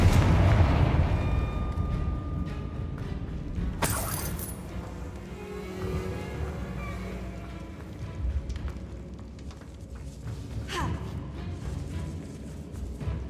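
A Confringo explosive spell goes off in Hogwarts Legacy, a sharp blast followed by a long rumbling wash of booms and debris, with a second fainter crack later.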